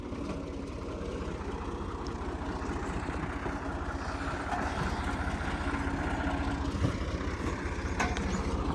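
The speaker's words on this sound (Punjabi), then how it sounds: "ਟਰੈਕਟਰ ਬਾਹਰ ਨਿਕਲ ਗਿਆ" A tractor engine chugs steadily at low revs as the tractor pulls out of a farm field, a close, even pulsing drone that holds for several seconds with faint clanks over it.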